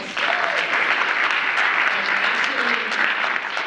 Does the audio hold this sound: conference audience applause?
yes